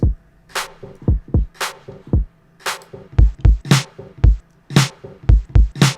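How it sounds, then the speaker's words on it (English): Two layered retro drum tracks loop in an indie rock beat, deep kicks and crisp snare and hat hits, doubled and thick in an even, repeating groove. "So now you have like 2 different drum tracks"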